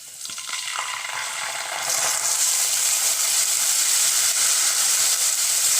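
Green chillies, curry leaves and ginger garlic paste fry in hot oil in a pan with a steady loud sizzle that swells and grows hissier a couple of seconds in as more goes into the pan.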